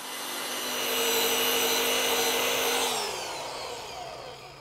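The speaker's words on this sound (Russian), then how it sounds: "Я аккуратно срежу его и отполирую поверхность." Power polishing tool working a small defect in CC6500 clear lacquer on a painted panel, a steady high whine that swells then eases off with a falling pitch near the end, close and fairly loud with no talk.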